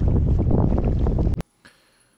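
Gusty wind buffets the microphone on a choppy sea from a kayak, a dense roaring rush for over a second before cutting off abruptly, followed by near silence and a faint brief gust.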